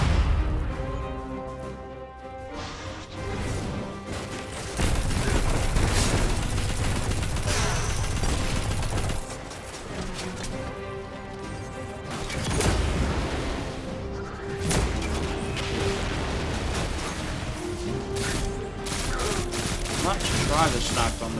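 Linear fusion rifle fire and other weapons in Destiny 2 boom and crackle in repeated heavy bursts, loud and close, with talk running over some of the shots.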